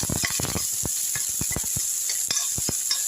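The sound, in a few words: onion and crushed garlic sizzling in a pan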